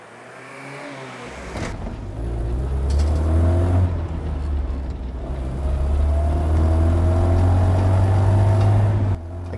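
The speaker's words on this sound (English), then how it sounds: "I drive a 1963 Land Rover Series 2A." A 1963 Land Rover Series IIA engine starts and runs, a loud close low rumble that swells as it is revved and holds a steady drone to the end, no talk.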